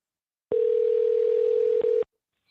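A steady telephone tone sounds for about a second and a half after placing a call back on a sales line, loud and unbroken before cutting off abruptly.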